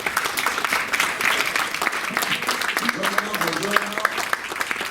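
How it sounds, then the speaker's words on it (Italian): Steady audience applause, dense clapping from a crowd at a press conference aboard the cruise ship MSC Magnifica, with a voice speaking over it partway through. "dero, che fa parte dell'area manager di MSC, che accogliamo con un grande applauso."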